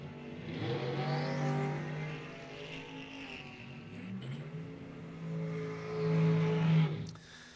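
A dragster launches off the line on a drag strip with an unusual launch, its engine note rising and sweeping loudly over several seconds and swelling again near the end.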